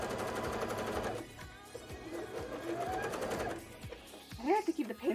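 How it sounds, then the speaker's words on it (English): A domestic sewing machine stitching slippery bra fabric runs in fast rhythmic bursts, a close mechanical chatter that pauses and restarts, with a person talking over and between the stitching runs. "It was not happy with that, but now it is sewing."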